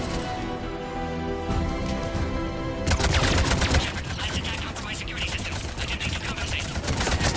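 Video game Mass Effect 3 gunfire erupts into dense, sustained rapid bursts of shots with layered combat noise, after a quieter stretch with a steady low drone.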